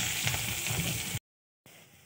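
Green chili and onion hitting hot oil in a wok, a loud, dense steady sizzle and crackle of frying that cuts out abruptly, then resumes more quietly.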